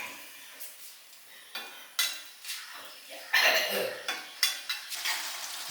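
A spicy soya chunk masala curry cooking in a pan, with a steady sizzle under repeated spoon scrapes and stirring strokes against the metal, some sharper than others, close and fairly loud.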